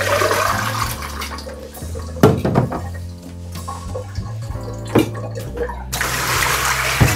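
Running water rinses a cyanotype print toned with tannic acid and sodium carbonate, a loud continuous splashing flow with a few stronger gushes and surges, close by and with no talking.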